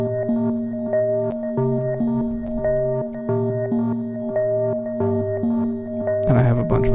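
A synth key patch from the Serum plugin plays sustained chords that repeat in a steady rhythm, alone and upfront, ending in a brief noisy swell.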